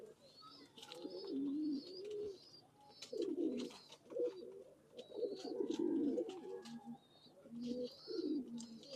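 Rare Ajan breed pigeons in Khulna, Bangladesh coo close by in repeated soft, throaty bursts, with faint higher chirps over a quiet background and no talking.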